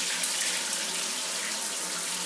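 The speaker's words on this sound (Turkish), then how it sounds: "Duş." A steady, hissing shower runs in Rock Star Life Simulator, a continuous close spray of water with no break and no talking.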